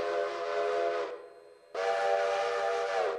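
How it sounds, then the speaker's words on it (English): A steam train whistle in the Railroader video game blows in two long, loud, steady harmonic blasts separated by a short pause. "Oh, we got to blow the whistle."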